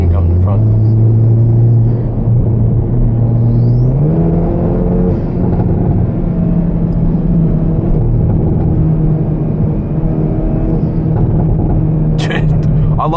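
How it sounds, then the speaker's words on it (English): Engine of a 2025 Hyundai i30N driving on a highway, a steady close rumble with a rising rev pitch around the middle and continuous road noise, with a person talking over it. "love the sound of this car."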